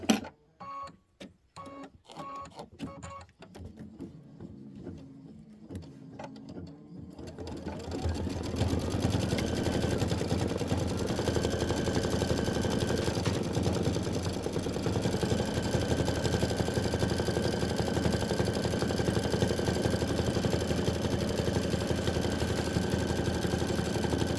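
A sewing machine stitches a quilt block, starting with a few short, sharp bursts of needle clatter, then settling into a fast, steady whirring run that continues loud and close with no talking.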